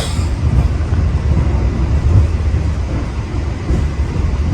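Bima sleeper passenger train, Indonesia's oldest still-running service and successor to the Bintang Fajar and Bintang Senja, rumbling steadily along the rails with a continuous low, loud roar and no talking.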